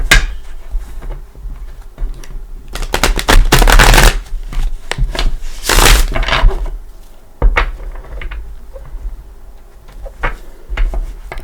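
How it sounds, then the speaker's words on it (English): Tarot cards being shuffled by hand during a psychic reading, with repeated crisp riffling bursts and soft slaps, close and fairly loud, in bursts across the clip with no talking. "I don't know why I'm shuffling like that."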